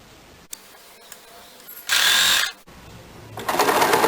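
A sewing machine stitches a blouse sleeve along the side seam in two short bursts of whirring, the second louder and longer, with small clicks and pauses between them.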